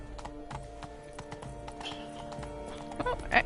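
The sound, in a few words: unicorn hooves clip-clopping in video game The Witcher 3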